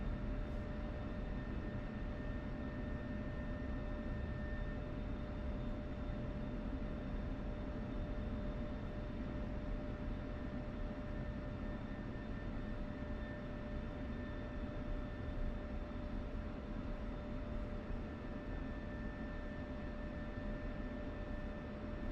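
F-16C Viper jet taxiing on the ground in DCS World, a steady, loud engine roar with a constant high whine running unbroken throughout, with no voices.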